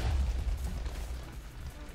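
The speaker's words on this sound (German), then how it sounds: "Komm, wir lassen die Missile jetzt einfach mal explodieren." A missile blows up in the Minecraft Missile Wars game, giving a deep, rumbling boom that is loudest at the start and then decays into a fading low roar, heard alone without talk.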